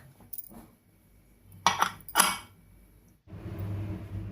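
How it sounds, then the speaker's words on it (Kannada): A pressure cooker lid being shut in a home kitchen while mutton biryani is cooked, heard as two sharp metallic clanks close together, then a low rattling scrape, with quiet pauses between. "ಕುಕ್ಕರ್ ಲಿಡ್ನ ಮುಚ್ಚಿಬಿಟ್ಟು"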